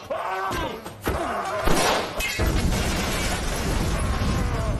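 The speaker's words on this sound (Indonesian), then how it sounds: "si gempal tak sengaja meledakkan tabung gas di tempat itu" Gas cylinder blowing up in an action film scene, a loud booming burst followed by sustained roaring debris and rumble, close and dense.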